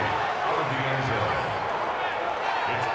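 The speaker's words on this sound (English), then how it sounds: "You can already start to hear this crowd." A packed NFL stadium crowd in Madden 20, Browns at Texans, on a 3rd-and-goal play: a steady, dense roar of many voices holds at an even level from start to finish.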